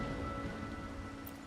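Steady rainfall in the video game Wuthering Waves hisses and patters evenly over a low rumble, soft and continuous with no voices.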